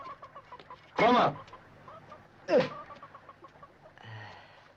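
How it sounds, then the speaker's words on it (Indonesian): Chickens cluck loudly in two bursts, with smaller background squawks, in a village yard scene from a 1978 Indonesian film; faint speech and ambient noise surround them. "Lari itu ayam."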